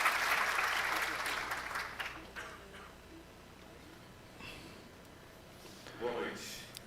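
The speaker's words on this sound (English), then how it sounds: "A round of applause for Ricardo Nunes" Applause from an audience welcoming São Paulo mayor Ricardo Nunes at an event opening, loud at first then fading within two seconds, followed by quiet room sound and brief talk.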